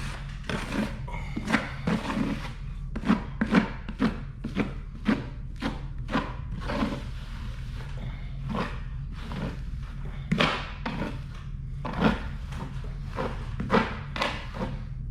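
Repeated sharp scraping strokes of a knife over wet plaster of Paris during a drywall patch repair, steady and close, with short pauses between bursts.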